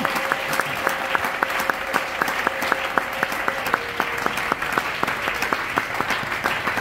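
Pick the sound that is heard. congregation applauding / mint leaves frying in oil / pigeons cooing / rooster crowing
congregation applauding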